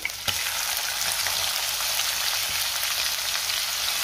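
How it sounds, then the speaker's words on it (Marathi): Chopped onion going into hot oil with green chillies in a pan, a steady, close, dense sizzle that starts with a brief burst and holds evenly without any talking. "आता आपण ह्यामध्ये कांदा घालूया"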